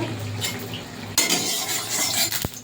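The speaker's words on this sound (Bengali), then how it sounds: "শঙ্কর মাছের টুকরোগুলো ভেজে নেব একটু" Stingray fish pieces going into hot oil in a wok, with metal utensil clinks and stirring scrapes, then a steady crackling sizzle building after the fish drops in, close and busy.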